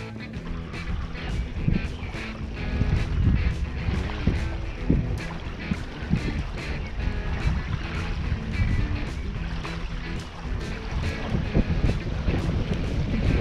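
Gusty wind on a cold day of fishing rumbles across the microphone under repeated knocking and splashing sounds, a steady moderate roar throughout with no clear talking.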